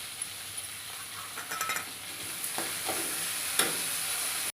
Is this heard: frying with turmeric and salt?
yes